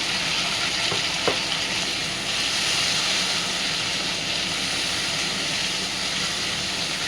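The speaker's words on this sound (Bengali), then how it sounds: "পেঁয়াজটা দিয়ে ভালো করে একটু পেঁয়াজটাকে ভেজে নেব" Onions frying in hot oil in a wok with dried chilli, cumin and bay leaf, producing a steady, broadband sizzle at close range throughout, with a couple of faint utensil taps early on and no speech.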